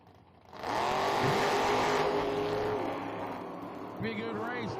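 At a drag strip, a 1967 Chevrolet Corvette and a 1927 Dodge Roadster launch side by side in a sudden, loud, sustained engine roar that slowly fades as the cars pull away, with a commentator talking over it.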